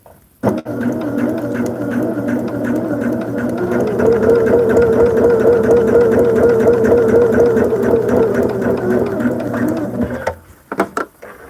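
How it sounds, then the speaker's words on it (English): Sewing machine stitching fabric along a marked line, a steady rhythmic chatter of needle strokes starting after a click and running about ten seconds before stopping. "we're going to just stitch on that line right there"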